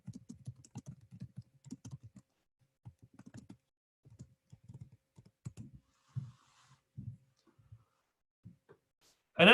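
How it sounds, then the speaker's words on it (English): Someone types a burst of keystrokes on a computer keyboard while hosting an executive-education Python webinar; close, quiet clicks come in uneven clusters, with short pauses between them and a louder sound at the very end. "So I'll type in something myself."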